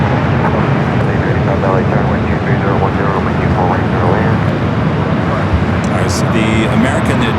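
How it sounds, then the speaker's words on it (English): Air Tahiti Nui Boeing 787 Dreamliner arriving from Paris at Los Angeles airport, a steady broad jet roar filling the whole stretch, with voices talking over it. "Air Tahiti Nui, the Dreamliner heading to the south side, the flight coming in from Paris"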